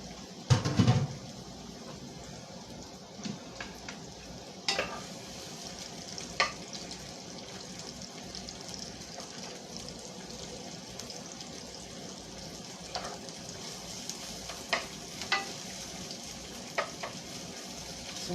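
Onions sizzle steadily in olive oil in a pan at home, stirred now and then so that soft scraping clicks and clatters break through the constant close frying hiss.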